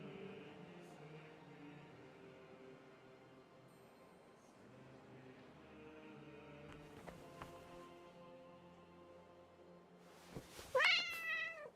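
A cat meowing in the video game Kingdom Come: Deliverance 2, with a few faint mews over quiet ambient game music, then a louder rising meow near the end.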